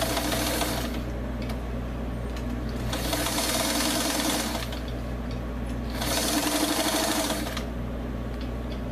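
A sewing machine stitches a dress panel seam in three rapid bursts separated by brief pauses, a close, fast mechanical whirring and clatter with no talking.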